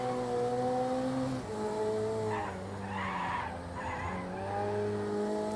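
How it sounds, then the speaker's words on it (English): Loud racing engine with tyres squealing and skidding as the car corners in the video game Project Cars 2, the engine pitch dipping and rising, no talking. "you'll hear the tyres squealing."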